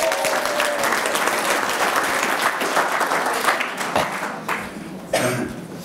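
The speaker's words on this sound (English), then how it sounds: "Please give a round of applause for Sarah Brindley." Audience at a live show breaks into loud, sustained applause that stays dense and steady throughout, thinning slightly near the end.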